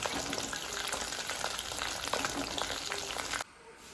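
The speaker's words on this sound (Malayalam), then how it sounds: "ഇനിയിപ്പം നമുക്ക് ഇളക്കി കൊടുക്കാം." Batter-coated prawn lollipops fry in hot oil, a loud continuous crackling sizzle with faint stirring, cutting off abruptly near the end into quiet.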